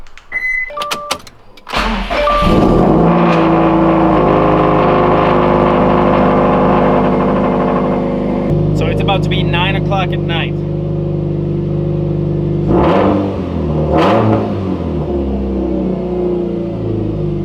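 A Subaru car engine cranks and fires up at night, then idles loudly and revs, with a steady low rumble close by and a few brief surges; someone speaks briefly over the start.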